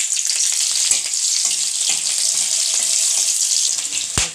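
Green chillies and nigella seeds hit hot oil in a wok, giving a loud, close, continuous sizzle with crackling spits and occasional stirring clunks.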